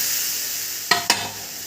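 Water goes into a hot pan of frying soybean chunks and potatoes. A steady hiss runs under two sharp, loud sizzling bursts close together near the middle, and then the sizzle settles back to a gentle simmer.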